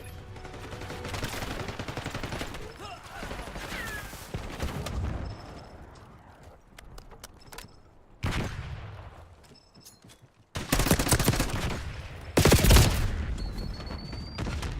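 Player's gun fire in Black Ops 6 multiplayer, loud close bursts of automatic shots that start and stop in several spurts, with quieter gaps of distant shots between them.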